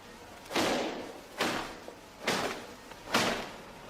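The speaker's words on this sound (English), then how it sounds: "Banging out, which helps to relax the fibres in the material, is a skillful process and takes years to acquire." English silk cloth is banged out by a craftsman to relax the fibres, making four heavy, evenly spaced broadband thumps about a second apart, close and loud, each fading quickly, with no talking.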